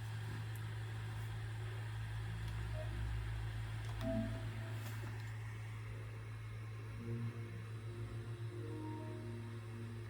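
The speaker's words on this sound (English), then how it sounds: "So when you turn it on, it kind of kicks in," A PlayStation 5 Slim's cooling fan runs with a steady low hum and whir at startup, while a passing car adds a louder swell near the middle.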